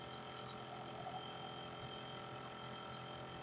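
Water is poured from a glass into a cooking pot of chicken nihari, a soft, continuous, fairly quiet liquid flow over a faint steady background hum.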